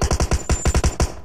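Automatic gunfire in the PUBG Mobile video game: a rapid burst of about ten evenly spaced shots with punchy low thumps, loud and close, with no talking over it.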